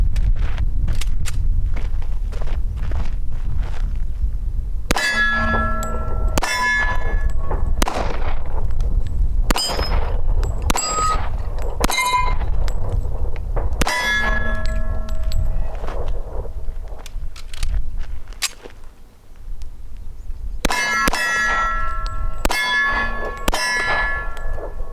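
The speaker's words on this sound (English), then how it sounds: "We're going to be shooting them out of a Springfield Armory 1911 loaded." Springfield Armory 1911 firing 230-grain .45 ACP rounds outdoors, a series of sharp loud reports spaced a few seconds apart, some in quick pairs, with ringing metallic clangs following several shots.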